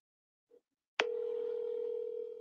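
A telephone line gives a soft tick, then a sharp click, followed by a steady, continuous dial tone that holds clearly for over a second.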